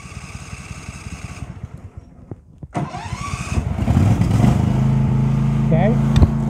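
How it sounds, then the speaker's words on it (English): Engine cranking and catching, then settling into a steady idle hum, with speech during the start. "Now we're going to start the engine."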